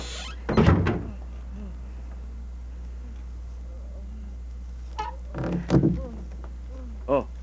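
A door thuds shut twice indoors, a solid knock near the start and another heavier bump later, with quiet room tone between.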